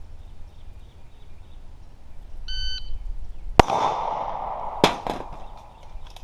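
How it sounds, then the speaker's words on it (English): Two sharp, loud pistol shots from a Springfield Armory XD40 Mod 2 subcompact during a low-ready drill with a magazine change, spaced about a second apart, with a smaller crack trailing the second. "Shot from the low ready, mag change, shot."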